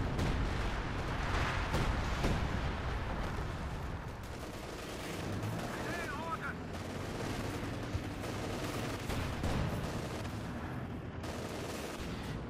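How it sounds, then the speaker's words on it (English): Anti-tank guns fire in a Company of Heroes 2 battle, with sharp booming shots and explosions scattered through a dense, fairly quiet wash of distant gunfire and combat noise. "they're taking hits from the anti-tank guns"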